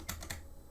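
Three quick clicking keystrokes on a partly broken computer keyboard, close and fairly faint, followed by quiet room noise with no talking.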